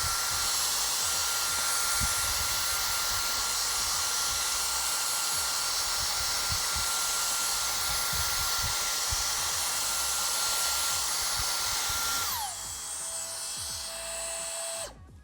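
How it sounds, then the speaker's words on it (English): A Dyson Airstrait straightener blows air like a hair dryer in a steady, loud whooshing hiss with a thin high whine, then the pitch drops sharply as it powers down near the end. "you can see how it kind of works as a hair dryer as well"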